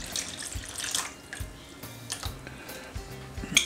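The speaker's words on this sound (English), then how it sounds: "I'm going to do another pitcher's worth of water in the tray to get them all good and soaked" Water poured from a pitcher into a seed-starting tray of paper pots and Jiffy pots, a close, soft splashing and trickling with a few brief gurgles and drips, no talking.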